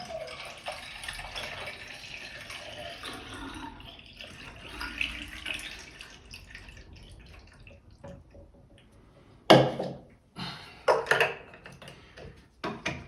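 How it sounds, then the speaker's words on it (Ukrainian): Film developer solution is poured into a developing tank, giving a trickling, gurgling liquid flow followed by a few louder knocks and splashes near the end. "Перше, ми заливаємо наш розчин."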